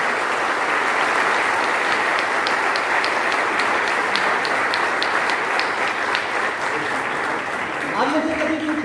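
An audience in a Varanasi motivational seminar hall claps steadily and loudly, a dense continuous wash of applause that fades slightly as a voice begins speaking at the end.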